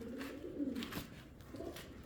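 Andijan breed pigeons from Uzbekistan coo in low, throaty, rolling calls, with one bird nearby and a second coo trailing off, over quiet background noise.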